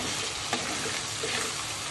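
Fish fries in a pan with onion and garlic as masala goes in, a steady close sizzle with a couple of brief stirring scrapes and no talking.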